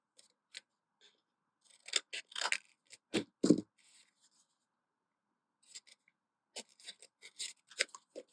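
Scissors snip through paper while cutting small red pieces for a collage on a tile, quiet crisp cuts in two separate bursts with a pause between them.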